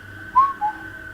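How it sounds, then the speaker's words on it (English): A person whistles two short notes, the first a rising-falling tone and the second shorter, clear and fairly close over a quiet outdoor background in the woods. "I want to do a whistle. Can you copy?"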